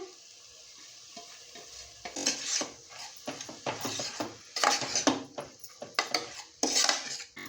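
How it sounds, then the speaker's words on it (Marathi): Chopped spinach tipped into a pan of sautéed masala for mung and masoor dal, with a spoon clattering and stirring against the metal pan in repeated scraping bursts over a faint sizzle, close and fairly loud, no talking. "मसाला छान असा परतला आहे आता आपण हे कट केलेली पालक ह्याच्यामध्ये ॲड करूया"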